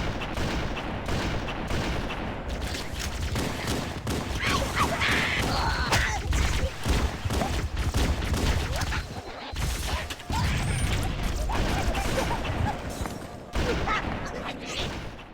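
Rapid bursts of gunfire with mechanical clatter and explosions fill a Halo CE video game battle on the Pillar of Autumn, sustained and loud over a busy game soundscape.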